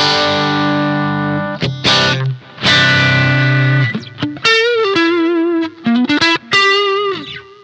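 A Stratocaster fitted with GFS '64 stagger vintage pickups plays bright, ringing chords followed by quicker single-note phrases with some bends, close and clear with short gaps between phrases and no talking.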